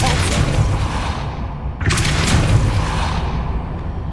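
The Depulso spell from Hogwarts Legacy on PS5 hits in loud, dense booming blasts: a sustained roaring burst, a brief dip, then a second sharp impact with rumbling, gunfire-like crackle, all close and without talk.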